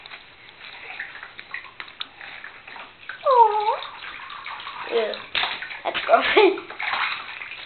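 Water sloshes in a bathtub as a wet Webkinz plush toy is washed, a steady splashy wash with a few louder swishes, while someone talks over it.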